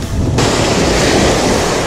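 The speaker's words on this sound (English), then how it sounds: "there is some swell, but it's breaking right literally on the shore" Swell breaking right on the shore beside a small river mouth, heard as a loud, continuous roar of surf and rushing water with wind buffeting the microphone, swelling in fully after a brief quieter start.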